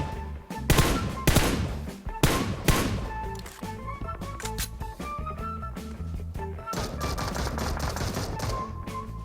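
Rapid automatic gunfire bursts in the mobile battle royale game PUBG Mobile, loud and close, with sharp repeated shots in clusters over continuous game sounds and background music.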